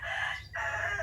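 A rooster crows once, a sustained nasal cry with a short break in the middle, moderately close on a farm, with a low rumble underneath and nobody talking.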